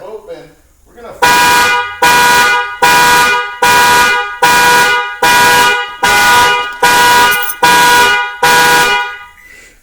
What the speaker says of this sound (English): If an alarm sounds, then this vehicle is equipped with an OEM alarm system.